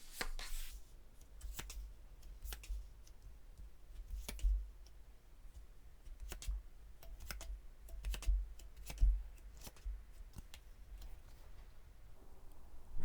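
Tarot cards are drawn and handled in a quiet room: faint, scattered snaps and soft clicks of card stock, spaced irregularly over a low, hushed background.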